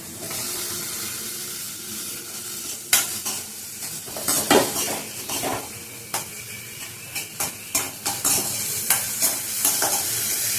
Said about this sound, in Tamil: தக்காளி பழம் போட்டு கொஞ்சம் நேரம் வதக்கிட்டு